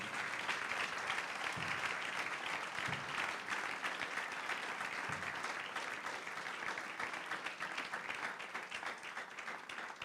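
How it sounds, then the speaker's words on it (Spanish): A church congregation bursts into loud, sustained applause, many hands clapping together in a dense roar that holds steady for several seconds and slowly eases off. "¿Cuántos quieren darle un fuerte aplauso al Rey?"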